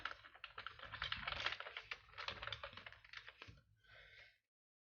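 Someone types a password on a computer keyboard in a short, quiet run of rapid key taps that stops cleanly.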